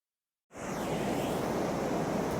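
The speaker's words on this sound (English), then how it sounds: "This is white noise." White noise played back from a Spotify playlist, starting abruptly after a brief silence and then holding as a steady, broad, loud hiss.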